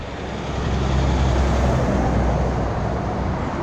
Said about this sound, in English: Wait for the traffic noise to go away.